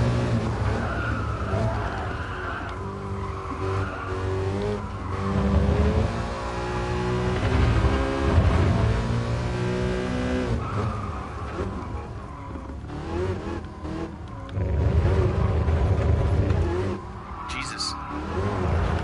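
A roaring race car engine in GT Sport revs and shifts through gears, with tires skidding at moments, loud and continuous for the whole stretch.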